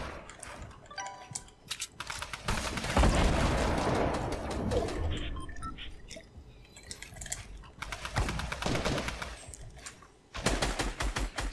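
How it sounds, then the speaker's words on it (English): Video game gunfire crackles in rapid bursts and scattered shots, some close and loud, others fainter in the background, with keyboard-like clicking mixed in. "Someone shooting behind me"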